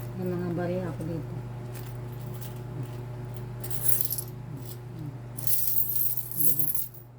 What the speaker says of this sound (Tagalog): May mga barya ako dito.